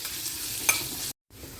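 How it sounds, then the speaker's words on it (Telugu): Sliced onions frying in hot oil for a Rayalaseema kandi karam tempering, a soft steady sizzle with light stirring and a brief sharp clink, close and quiet, cut by a short gap of silence. "ఇది వేసుకొని కొంచెం ఇవన్నీ కలిపి గోల్డెన్ బ్రౌనిష్ కలర్ వచ్చే వరకు ఒక్కసారి వేయించుకోవాలండి."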